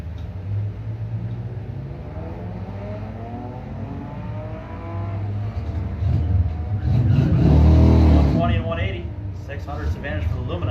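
A 1993 Chevrolet Lumina and a 2014 Camaro accelerate down a street-night drag strip at Thirlby. A steady engine drone builds into a louder revving surge that peaks near the close, while an announcer talks over it.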